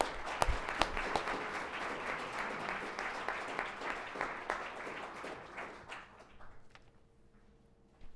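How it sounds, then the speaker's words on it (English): Audience applause for a panel at a conference session: a broad wash of clapping from many hands, strong at first and then thinning and fading toward the end. "I will ask everyone to give them a round of applause."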